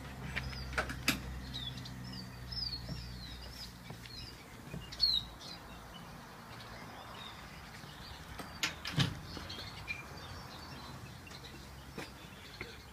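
Pastel cage birds in aviary flights give faint, scattered chirps and tweets over a quiet background, with a brief flutter and a soft knock or two.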